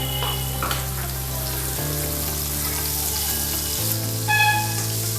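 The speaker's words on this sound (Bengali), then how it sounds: "একটু বাটার গরম করে নেব।" Butter heating in a wok (kadai) while cooking broccoli soup, a steady hissing sizzle with faint tonal hum beneath, changing in small steps, no talking.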